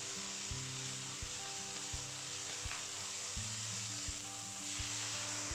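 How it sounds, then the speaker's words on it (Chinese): Chicken pieces pan-frying in a wok before being made into Chinese yam chicken soup, giving a continuous close sizzle with faint scraping as the meat is turned, and no talking. "在煎的过程中，需要将鸡肉翻面。"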